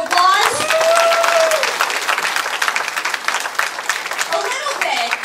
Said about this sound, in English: Will you give him another round of applause?